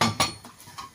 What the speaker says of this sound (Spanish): Voy a buscar una sartén.